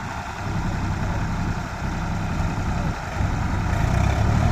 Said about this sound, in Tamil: 2 டிராக்டருமே ஸ்டார்ட் பண்ணி ஃபுல் ரேஸ் கொடுத்துருக்காங்க